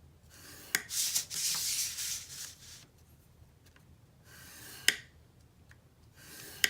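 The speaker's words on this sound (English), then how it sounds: "we're going to start by scoring this pocket in the same way we'd score any pocket" A paper pocket for a vintage traveler box is scored by hand, giving short, quiet scraping rubs and a few sharp taps at close range in a hushed room, with no talk.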